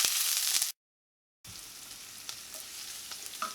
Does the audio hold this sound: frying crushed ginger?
yes